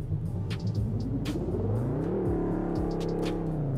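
A car in BeamNG.drive revs hard in first gear while crossing a bridge, the engine droning loud and steady, its pitch sweeping up and dipping with gear strain and wheelspin, with no talk.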